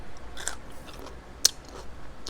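Someone bites into a crunchy, spicy bread and butter pickle, giving a few soft close crunches and chews, one bite sharper than the rest.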